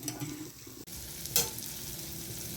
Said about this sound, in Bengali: এই মশলাটা কষার মধ্যে একটু দুধ গরম জলে গুলে দিয়ে মশলাটাকে একটু ভালোভাবে কষাবো